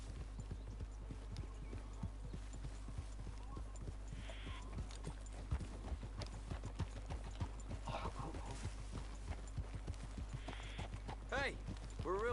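Horse hooves clop in a steady walking rhythm through woodland in Red Dead Redemption 2, with a low background hum, occasional soft whinnies and brief voices speaking over the hoofbeats.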